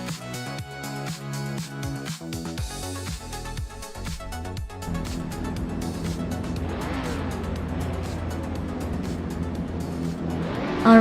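Race cars launch off the grid at Sepang in a racing video game, engines swelling into a loud continuous roar after a stretch of choppy rhythmic music-like sound, with tire noise building toward the end.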